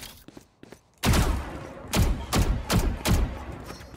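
In the video game Valorant, several heavy shotgun blasts go off in a rough rhythm at close range. Each one is a loud, sharp crack with a thudding tail, and a few faint clicks come before the first shot.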